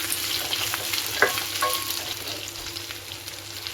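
Apples sautéing in a pan for apple chutney, a steady close sizzle and hiss of frying with a faint stir and a light clink near the start, no voices.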